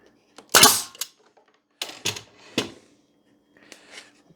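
A staple gun fires staples into a wooden L-shaped fence on a mini mating nuc beehive, several sharp loud bangs spaced apart, the first the loudest, with quieter snaps later.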